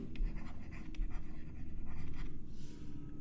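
Writing on a board during a Bangla accounting lecture on financial statements: a few short scratchy strokes over a steady low room hum, close and moderately loud, with no talking.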